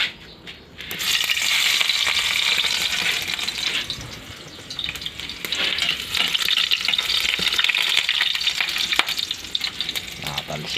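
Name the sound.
garlic frying in hot cooking oil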